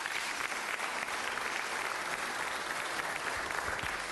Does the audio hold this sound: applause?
yes